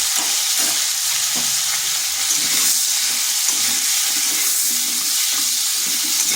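Pumpkin and turmeric are stirred in a frying pan, sizzling and hissing steadily throughout, with faint scraping from the stirring.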